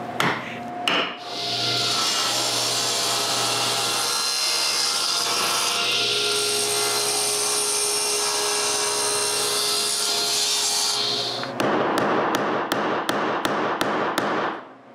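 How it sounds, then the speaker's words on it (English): A wooden blank for a mortar has its corners cut off, giving a sustained loud whining saw cut lasting about ten seconds, followed by a quick series of sharp rhythmic knocks. "After finding the center, I cut the corners."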